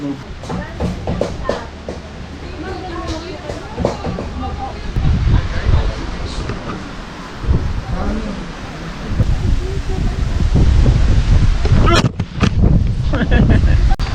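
Strong gusts buffet the microphone in loud, rumbling bursts on a rocky seashore at Bigang Munti, Lobo, Batangas, with someone talking intermittently over the roar.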